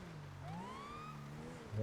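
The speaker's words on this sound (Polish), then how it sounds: "tu są syreny" A police siren in GTA V wails in the distance, its pitch sweeping up and down, faint beneath a low rumble before a louder burst at the end.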